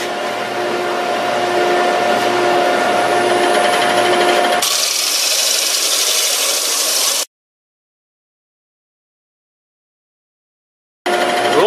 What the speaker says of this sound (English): Turn the suction on.